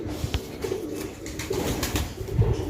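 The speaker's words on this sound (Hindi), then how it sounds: "ये भी एक कबूतर है जी।" A high flyer pigeon from Jaipur and Tonk stock gives soft, low cooing calls in short repeated bursts, close by over faint background rustle.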